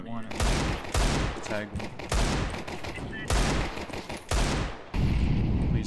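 Rapid bursts of video game gunfire crack loudly in repeated volleys, separated by brief gaps, while players talk over the shooting.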